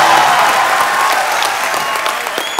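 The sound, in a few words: audience applause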